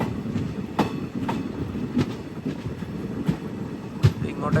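Talguppa Express train rolling along the rails on the Mysuru to Talguppa line, a steady rumbling clatter with regular clickety-clack wheel beats over rail joints, close and continuous.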